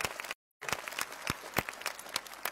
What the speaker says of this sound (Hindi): एक बार जोरदार तालियां हमारे ओलंपिक्स के साथियों के लिए